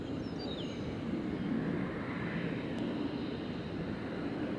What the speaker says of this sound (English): It's the Airbus A350 from British Airways, and it lands on our runway here